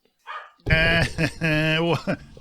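A dog barks in the background of a horror podcast recording, giving about three sharp, loud barks with a faint whimper just before them. The barks sit close to the microphone with nobody talking over them.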